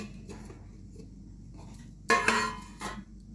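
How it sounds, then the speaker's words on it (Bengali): A lid is lifted off a covered bowl of kneaded dough for kachori, giving a short clattering clink followed by a softer knock, close by in a quiet kitchen. "এবার আমি ঢাকনাটা খুলছি।"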